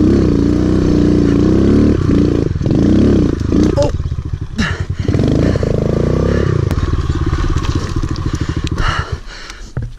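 A Kawasaki KLX 110 dirt bike ridden around a private track, its small engine revving and droning close by, pitch rising and falling with gear changes, some clatter and scraping, and a voice speaking briefly over it.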